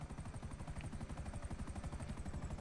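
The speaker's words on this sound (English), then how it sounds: "The Savage. Now, this is a very good helicopter." A Savage attack helicopter in GTA 5 Online flies with a steady, fast rotor chop, the blades thudding in an even, continuous rhythm, close and fairly loud with no voices.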